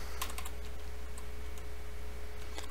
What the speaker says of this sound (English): pressing the minus key on your keyboard